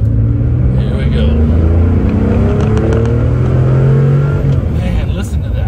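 A 1974 Porsche 911 Carrera's engine revs while the car is driven, a loud, steady rumble with rising and falling pitch sweeps throughout, heard up close from inside.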